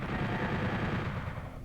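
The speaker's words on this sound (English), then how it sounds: "Maybe I should be making heavier use of the chain gun right now." Rapid, continuous chain gun fire in Doom 64, a dense rattling stream of shots that drives on steadily without a break, with no talking.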